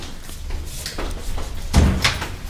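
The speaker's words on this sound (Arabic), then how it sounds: "تعي قفلي الباب وراي" A door shuts with a heavy thud followed by a short rattling knock as it is secured, heard close up indoors in a domestic scene.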